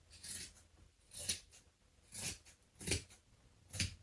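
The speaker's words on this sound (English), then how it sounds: "so we can cut straight across here" Scissors cut straight across fabric during a thrifted-clothing alteration, making five distinct, quiet snips spaced evenly apart and close by.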